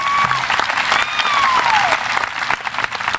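A graduation audience applauds student athletes with steady, dense clapping from a large crowd at close range, a few whistles rising above it.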